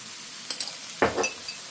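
Bitter melon being stir-fried for thoran in a pan: a couple of light clinks, then a soft scraping stir with a quiet sizzle, brief and close.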